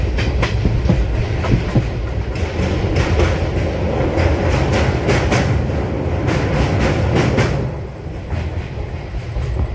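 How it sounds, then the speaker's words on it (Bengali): Bokaro Steel City Express running at night out of Howrah, a steady loud rumble of wheels on rail with repeated clickety-clack beats throughout, heard from inside the carriage with no voices. "তো রাতের ট্রেনে হাওড়া থেকে ছেড়েছে ট্রেন"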